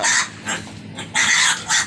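Pigs and piglets in a pen, several loud squeals and grunts coming in bursts with short pauses between, close by and without talk.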